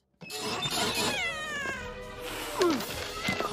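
Cats meow close by, a drawn-out wavering yowl followed by a second shorter meow and some rustling, loud and alone in a room.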